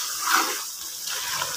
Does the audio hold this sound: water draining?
yes